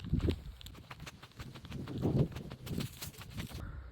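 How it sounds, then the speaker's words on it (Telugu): A cow's hooves clop on the ground in an uneven walking rhythm, fairly close, with a few sharp knocks and outdoor village background noise. "ఆవు కమింగ్."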